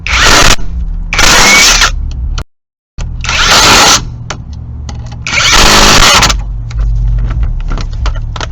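A power tool whirs in loud repeated bursts while driving bolts on a Mk5 VW GTI axle, several spurts of a few seconds each separated by brief pauses, close up in a garage.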